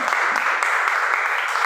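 Congregation clapping in praise during a Spanish-language evangelical church service, a short burst of steady, dense applause filling the room with no voices over it.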